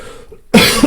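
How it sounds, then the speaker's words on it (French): A single sharp, loud cough close to a microphone, bursting out after a brief quiet moment and trailing off in a breathy rasp. "J'ai essayé de retenir de tousser, mais avec le micro"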